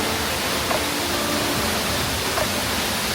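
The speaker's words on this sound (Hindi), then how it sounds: "जो फ्लो है इस पानी का दैट इज़ रियली मेस्मराइजिंग" Kelavali waterfall in Satara sends out a constant, loud rush of falling water, a steady broadband roar that fills the whole stretch with no voices.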